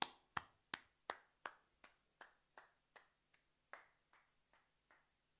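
Applause in an empty hall: about fifteen sharp, isolated hand claps in a slow, slightly uneven rhythm, each ringing briefly in the reverberant room, fairly quiet and alone.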